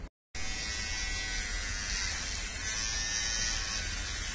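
An electric hair trimmer buzzes steadily while cutting a boy's side hair at home, a close, continuous whine after a brief silent gap at the start, with no talking.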